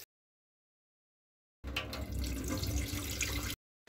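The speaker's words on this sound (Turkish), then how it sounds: "Üzerindeki acı sularının ve tuzlarının gitmesi için bu zeytinimi de 3-4 su yıkıyorum." Running water from a tap rinses brined black olives in a bowl, a steady close gush lasting a couple of seconds between silent gaps.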